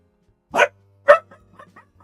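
Puppies barking, two sharp close barks followed by a few quieter yips and whimpers trailing off, with no talking.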